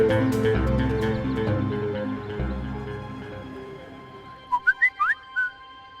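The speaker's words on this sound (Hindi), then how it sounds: "लो, नईम का मैसेज भी आ गया।" Short phone message notification tone: a handful of bright chirping whistle-like beeps near the end, heard over a steady background bed of music.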